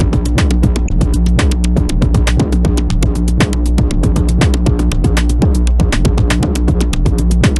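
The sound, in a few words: synthesized drums and bass track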